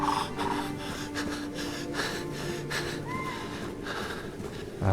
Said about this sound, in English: Oh man, that heavy breathing.